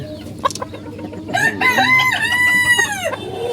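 Farm chickens cluck in short bursts, then a rooster lets out a long, loud crow close by, with no talking.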